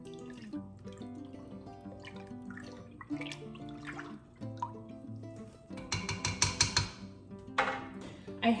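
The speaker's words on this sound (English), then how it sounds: "Give it a quick stir." Sugar water mixed with Honeybee Healthy gets a quick stir, with light clinks and liquid swishes that grow busier toward the end, set against soft tonal background music.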